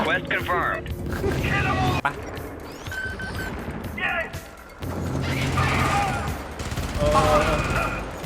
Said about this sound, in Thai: อะไรอ่ะ ป้อมยิงเหรอจนป้อมยิง